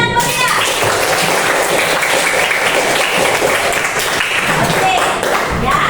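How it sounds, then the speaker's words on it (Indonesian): Classroom of students clapping loudly for classmates who presented their group discussion, a dense continuous burst of applause mixed with children's chatter, close and sustained for several seconds. "Tepuk tangannya meriah."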